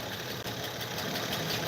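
A car engine idles steadily without misfiring, an even mechanical hum with a faint regular beat, heard alone at moderate distance with no talk.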